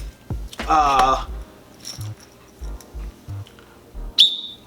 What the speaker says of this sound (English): We got a whistle right here, safety whistle